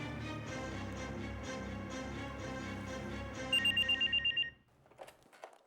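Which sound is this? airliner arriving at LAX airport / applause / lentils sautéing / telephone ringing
telephone ringing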